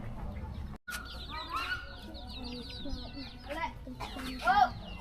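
Chickens clucking in a small rural village in Laos, several short warbling clucks and calls at moderate distance amid background noise and faint voices.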